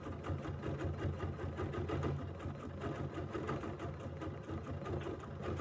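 A sewing machine stitches fibers onto fabric with a steady, close mechanical whir that runs continuously with no pauses and no voices.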